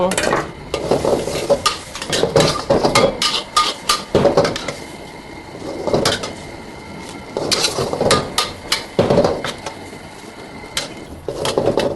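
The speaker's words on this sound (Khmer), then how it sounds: "ហើយយើងដាក់មីយើងចូល" Noodles tossed and stir-fried with sauce and milk in a hot pan, giving steady sizzling broken by repeated loud scrapes and clanks of a utensil against the metal, close and with no talking.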